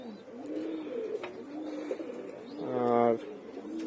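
Domestic pigeons in a loft give a low, rolling coo that swells briefly near the end, over a steady murmur of background noise.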